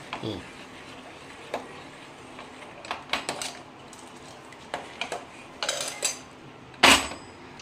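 A pot of payasam, the Kerala milk pudding palada, is taken off the stove and set down, giving scattered metallic clinks and scrapes and ending in one loud clank as it lands.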